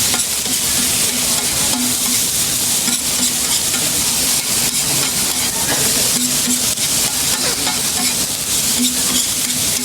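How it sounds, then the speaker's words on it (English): Meat slices, peppers and greens frying on a giant steel griddle at a Chongqing street food stall, loud continuous sizzling and hissing with steady scraping and stirring, close and dense with no pause. "The same giant surface gives him enough room to cook the meat, add peppers and greens, and mix everything together in one place."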